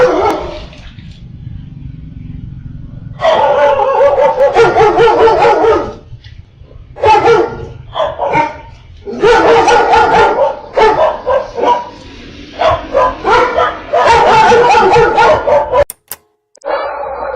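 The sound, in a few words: dogs barking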